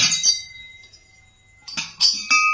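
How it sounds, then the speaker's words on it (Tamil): An old brass and copper water jug (kooja) with a knobbed lid gives bright metallic clinks and rings. A short burst comes first, then a pause and a few more clear clinks near the end, with no talk. "இதோட சவுண்டை பாருங்களேன், கூஜாவோட சவுண்டை"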